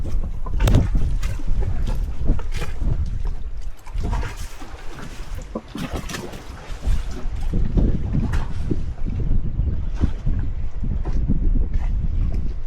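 Wind blows steadily across a sailboat riding at anchor in a Greek island anchorage, with roaring gusts buffeting the microphone and faint water sounds, loud and continuous with no speech.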